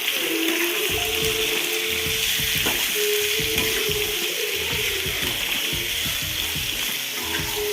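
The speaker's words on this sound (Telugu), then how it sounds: "చికెన్ వేసుకొని కలిపేసుకోవాలి" Chicken pieces fry loudly in a hot pan for a spicy garlic chicken fry, with a constant close sizzle and repeated scraping and mixing strokes throughout and no talking.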